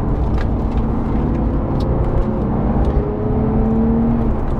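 Porsche 911 GT3 Touring driven hard on twisty roads, a steady loud engine drone with shifting tonal whine running throughout, close and continuous, no talking.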